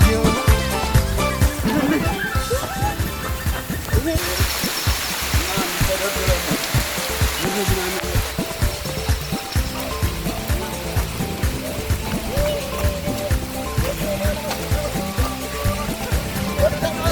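Rain pours steadily at night at a family campsite in Chebera Churchura National Park, Ethiopia, a dense continuous hiss that holds at an even level throughout.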